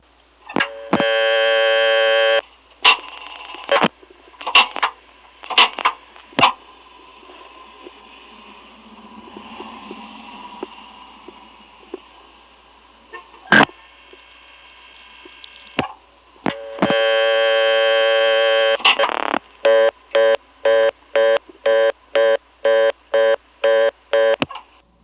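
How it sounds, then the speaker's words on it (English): Dialing 9 and hanging up, recorded at a 1975 Vermont telephone central office: buzzing tone bursts and sharp relay clicks, a quieter stretch of clicking, then another buzzy tone and a rapid series of evenly spaced pulses. "Here's what it sounds like to dial 9 something something and hang up."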